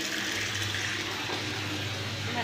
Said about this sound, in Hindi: ये पानी भर रही हूँ